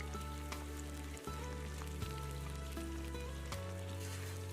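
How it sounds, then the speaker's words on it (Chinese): Starch-coated apple pieces deep-frying in hot oil, a steady bubbling sizzle with a constant hum beneath, no voices present. "下入拍好粉的苹果，这样炸一下，表面更酥脆一些"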